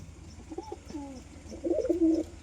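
Pigeons perched together give soft, wavering coos, a few separate calls followed by a slightly louder rolling coo, faint and nearby in a quiet room.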